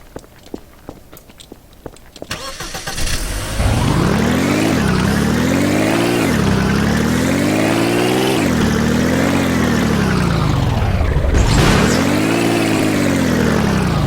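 A vehicle engine in the Heroes and Generals video game starts after a few clicks, then drones loudly and steadily while driving, its pitch rising and falling in repeated gear-like sweeps.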